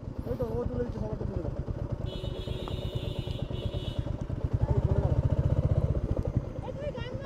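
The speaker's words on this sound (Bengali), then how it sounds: "এতগুলো বাইক, আলাদাই ভাই" A group of motorcycles rumbles along a scenic countryside road near a river and forest, engines droning steadily and swelling louder toward the end, under wind buffeting and people talking.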